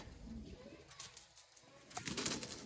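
Chapray breed pigeons coo softly in a few low, murmuring calls against faint background noise. The sound is quiet and close by.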